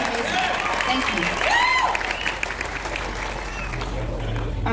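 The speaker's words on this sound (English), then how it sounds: "Just give a round of applause." An audience claps at the NC Folkfest 2022 during a performance, applause swelling briefly to a peak and then fading while people talk over it.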